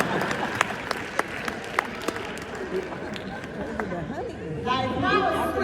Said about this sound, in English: Clap your hands for her.